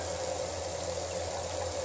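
Geothermal water pours from a pipe in a steady, continuous rush with a low constant hum underneath, fairly loud and unbroken with no talking.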